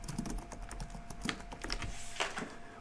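Someone types a name on a computer keyboard, a quick run of light key clicks close by against a faint hum, with no speech.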